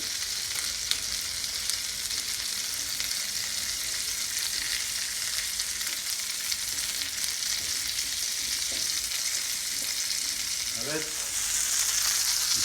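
Cretan-style stuffed mumbar, sheep intestine, frying in a pan, with a constant dense crackle and hiss close up and a few faint clinks and voice traces near the end.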